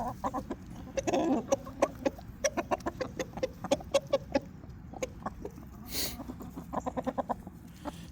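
Chickens cluck close by in a busy run of short, repeated calls, with a brief rustle partway through and no talking.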